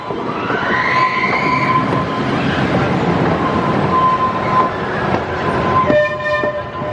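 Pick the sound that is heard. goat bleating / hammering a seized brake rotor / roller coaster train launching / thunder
roller coaster train launching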